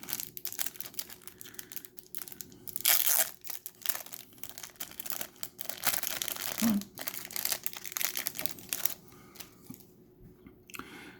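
A small plastic baggie around a figure base crinkles and rustles up close as it is handled and unwrapped, with bursts of crackling over several seconds and no talking.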